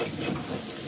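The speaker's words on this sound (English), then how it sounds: "This is frying them." Soft, steady sizzling of food frying in a pan, a faint continuous crackle with no voices.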